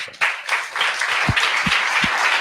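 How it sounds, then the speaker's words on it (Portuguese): A church congregation breaks into applause during a Sunday evening family service, a dense, steady wash of many hands clapping that rises and holds loud throughout. "Dê um aplauso a Jesus."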